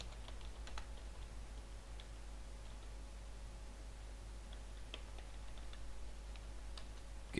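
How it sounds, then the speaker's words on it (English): Faint, sparse typing on a computer keyboard: scattered clicks in small bursts over a low steady hum, with no speech. "I'll just type it in as a module."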